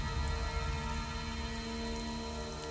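Steady, dense rainfall pours down continuously, a constant rushing hiss with a hint of distant thunder and no voices.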